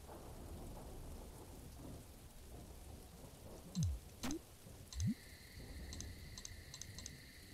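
Rain and thunder play in the video game There Is No Game: a soft steady rain hiss underlies a few short low rumbling bursts, with faint electronic beeps joining near the end.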